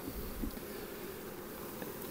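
A swarm of honey bees clustered on hive frames produces a dense, steady buzzing hum that fills the air evenly without pause, close and continuous.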